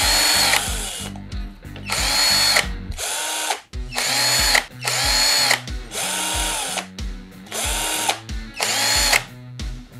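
An HDT Xenon 12V cordless drill runs in close, loud bursts of high motor whine, stopping and restarting repeatedly with short gaps and one longer pause, no talking heard.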